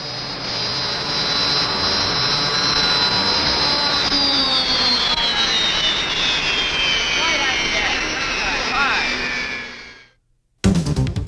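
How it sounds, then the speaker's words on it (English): The turbine engines of the U-95 unlimited hydroplane wind up on their starters and spool into a loud, sustained jet-like roar with rising and falling whine tones, then cut off abruptly before another burst begins. "from the moment the U-95 starters first appeared to wind and the mighty turbines began to spool"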